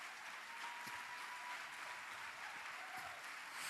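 A church congregation at a Sunday service applauds steadily and fairly loudly throughout, a dense, continuous clapping with faint voices mixed in.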